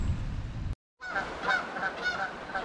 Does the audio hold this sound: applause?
no